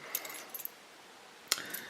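Keys on a ring jingle softly in short metallic bursts, one at the start and a brighter rattle near the end, over faint background hiss.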